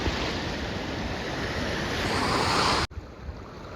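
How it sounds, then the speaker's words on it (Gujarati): Heavy rushing water pours continuously at a dam, a loud, steady roar close by that cuts off abruptly near the end, leaving a quieter wash of water and wind. "ઓ આમ જુઓ કેટલું પાણી પડે"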